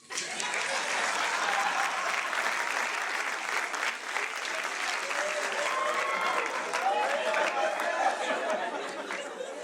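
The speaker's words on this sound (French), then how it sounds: "Quand j'ai fait ça, tu as applaudi." Sustained audience applause at a comedy club show fills the room for nearly ten seconds, steady and dense, with scattered chatter and a few chuckles mixed in.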